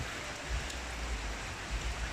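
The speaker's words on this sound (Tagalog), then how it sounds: "Pagbalik ko, yan, nagsimula na uling umulan." Steady rain falls on a muddy market area during the Christmas season, a continuous close hiss of drops with occasional heavier patters, no voices over it.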